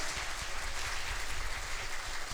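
An audience at a singing academy's annual function claps in a brief, continuous burst, heard at moderate distance and fairly faint.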